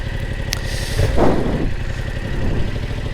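A Yamaha motorcycle, an R7 or TMAX, idles with a steady mid-pitched rumble, then revs up briefly as it pulls away on the road, settling back to a constant close engine drone.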